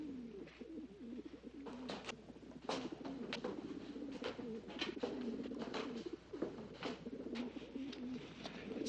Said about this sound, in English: It's those pigeons.